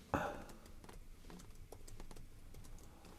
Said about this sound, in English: I'm typing in hello.